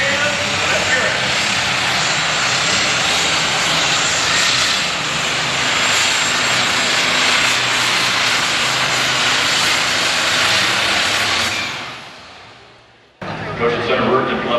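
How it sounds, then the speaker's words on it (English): A John Deere super stock pulling tractor at a 1993 NTPA Grand National Super Stock pull in Canfield, Ohio, roars loud and sustained for about twelve seconds, fades and cuts out, then bursts back briefly. "John Deere tractor, the best of luck."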